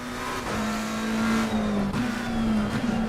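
A McLaren race car in Assetto Corsa Competizione sliding through corners, engine droning steadily with tires squealing and scrubbing across the whole stretch, no voices.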